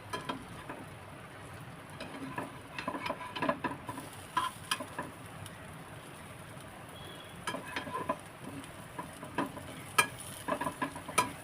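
Egg Bombay toast fries in a hot pan over fairly high gas after being flipped, giving a steady close sizzle and crackle with scattered pops and spatters, and no talking.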